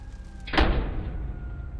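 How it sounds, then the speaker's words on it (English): A door is pushed shut with a single solid thud and a brief rattle at about the midpoint, followed by a low lingering hum, heard fairly close with no talking. "Close the door."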